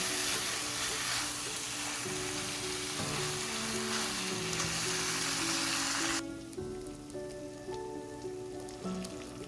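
Cooked pasta is stirred into Rao's Calabrian chili marinara sauce in a hot pan, giving a loud, steady sizzle and bubbling that drops to a quieter simmer partway through.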